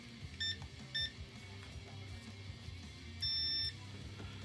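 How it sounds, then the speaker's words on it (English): A multimeter in continuity mode gives short high electronic beeps while a patch cable is tested: two quick beeps close together, then a slightly longer one after a pause, over a low background hum. "I'll grab my multimeter and put it to continuity mode"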